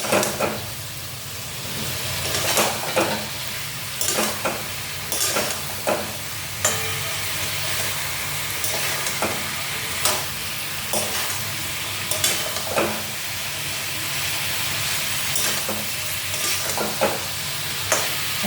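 Eggplant pieces fry in a hot pan with a steady close sizzle, broken by repeated scraping stir strokes at an uneven rhythm, with no voices.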